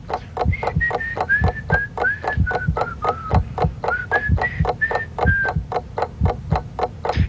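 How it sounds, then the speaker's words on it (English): A person whistles a wandering, tuneless run of short notes, close and clear, over a steady ticking beat. "Isn't it amazing when people whistle when they're waiting? They don't whistle any tune in particular. It's just a series of notes."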